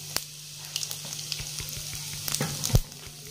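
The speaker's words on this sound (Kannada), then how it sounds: "ಎಣ್ಣೆ ಕಾದೈತ್ರಿ, ಅದ ಸ್ವಲ್ಪ ಜೀರಿಗೆ ಹಾಕೊಂಡ್ಬಿಟ್ಟೆ ನೋಡ್ರಿ." Cumin seeds sizzle and crackle steadily in hot oil in a pan for dal and jeera rice, a close continuous fry with scattered sharp pops and no talking.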